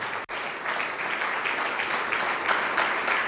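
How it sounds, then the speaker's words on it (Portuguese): A church congregation claps steadily and fairly loudly for a few seconds in worship, a dense, continuous sound with a brief dropout near the start. "vamos aplaudir mais ao nome do Senhor"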